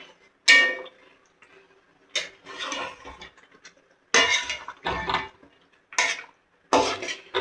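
Chicken and green chillies are stir-fried in a pan, with a utensil scraping and clattering against the pan in short bursts separated by quiet pauses.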